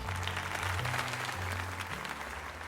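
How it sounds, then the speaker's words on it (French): Game crowd applause in Pokémon Legends Z-A, a steady wash of clapping at moderate level running throughout over low sustained background music, with no speech. "Allons tout le monde, applaudissons Alex comme il se doit."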